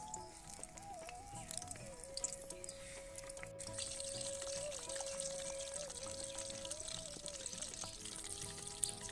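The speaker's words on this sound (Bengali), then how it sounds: "এখন আমি কুমড়ো ফুলটা ছেড়ে দেব তেলের মধ্যে" Battered pumpkin flowers frying in hot oil give a steady, close crackling sizzle with a faint watery hiss, running unbroken and alone, while a thin background tone hums throughout.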